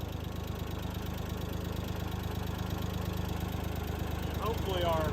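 A Ford 2600 tractor's diesel engine idling with a steady low throb and even rhythmic chug, close and moderately loud, rising slightly at the end.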